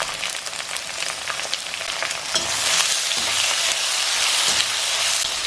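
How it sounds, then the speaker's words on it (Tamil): Carrots and beans sauté in a hot pan for noodles, a steady close sizzle with scraping stirs throughout, growing denser and louder midway. "கேரட், பீன்ஸ் ஒரு 1 minute வதங்கினப்புறம் கேப்சிகம் சேர்த்துப்பேன்."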